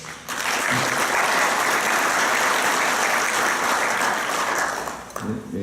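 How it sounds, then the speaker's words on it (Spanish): An audience gives sustained applause to welcome presenters at the start of a course session, loud and even, fading out with a voice at the end. "le damos la bienvenida con un aplauso a ellos"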